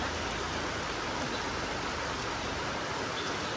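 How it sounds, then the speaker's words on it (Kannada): Dense, constant hiss of heavy rain beside a temple, loud and unbroken, with no voices. "ತುಂಬ ಮಳೆ ಆಗ್ತಾ"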